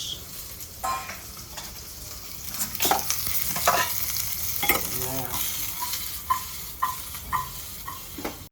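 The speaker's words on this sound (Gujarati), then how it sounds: "જો ખાખટી વઘારવાની ચાલુ થઈ ગઈ છે." Khakhra being tempered in hot oil in a pan, with a soft background sizzle and irregular clinks and scrapes of stirring that come louder and quicker toward the middle.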